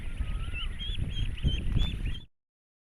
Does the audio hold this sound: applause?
no